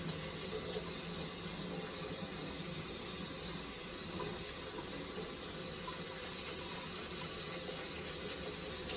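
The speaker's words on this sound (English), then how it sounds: "Just let the water run over it." Cold tap water running steadily into a sink over rice being rinsed, a continuous even hiss and splash that holds constant throughout.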